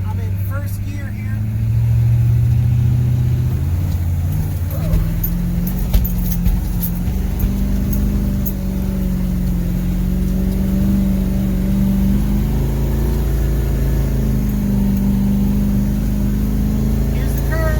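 An M1028 CUCV truck with both lockers engaged climbs a snowy 20% grade road in first gear, its engine droning low and steady and rising slightly in pitch, with someone talking over it.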